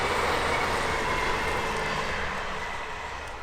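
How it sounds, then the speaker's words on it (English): A train rolls past close to a boathouse, a loud, steady roar of wheels on rails with a broad rushing hiss that eases slightly toward the end, with no talk. "we're going to have to open up as the train goes by"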